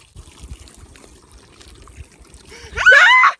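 Water poured onto a person's legs at a swimming pool, heard as a short burst of splashing and trickling near the end, after quiet, low rumbling background.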